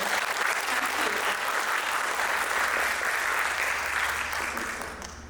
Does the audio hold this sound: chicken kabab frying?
no